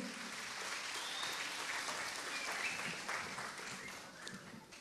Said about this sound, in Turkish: Evet, yavrularımızı alkışlıyoruz kuvvetli bir şekilde.